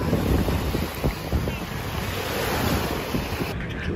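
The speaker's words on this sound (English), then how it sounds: "We just finished jet ski." A jet ski rides on open ocean water in Miami, heard as a continuous rushing wash of spray and waves under heavy buffeting wind noise, close and fairly loud.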